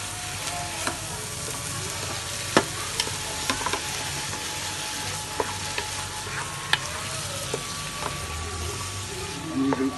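Minced lamb and vegetables are stirred over a high flame with a steady, close sizzle. Frequent scraping strokes and light clicks of the spoon against the pan run through it without pause.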